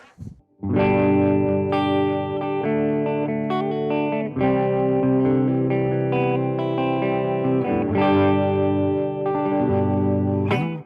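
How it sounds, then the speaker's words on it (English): Clean electric guitar through a Rajani Amps VOD-50 solid-state amp, humbucker pickup, EQ set for a mid-hump, plays sustained chords with warm, rounded midrange, ringing out in several phrases with no voices. "I've got the EQ dialed back a little bit just to get a bit of a mid-hump."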